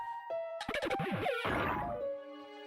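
Rock Smash breaks a boulder in Pokemon Platinum with a short chiptune-style crunch of quick descending tones, followed by a brief game jingle, all clean and quiet with no voices.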